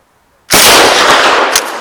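A loud, close gunshot from a rifle at an outdoor shooting session bursts out after a moment of quiet, then rings on as a sustained broadband roar that slowly fades, with no talking.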